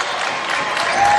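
Bishop Guertin Cardinals fans clap and cheer in a gym during a 2021 NHIAA Division 1 boys basketball game, a brief, loud and steady burst of crowd applause.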